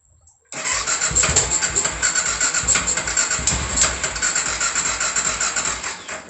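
A BMW F650 GS motorcycle engine, freshly installed with its throttle body air partly blocked, cranks and catches into a loud rough sputtering run that continues unevenly, close to the microphone.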